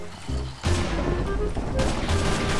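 Gunfire from zombies in a Minecraft game, a rapid burst of shots starting partway through, with another flurry near the end, loud over a busy game background.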